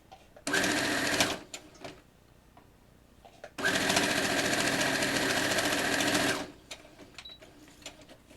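Sewing machine stitching quilt binding, running in two bursts, a short one of under a second and a longer run of about three seconds, a loud steady buzzing whir with quiet handling between.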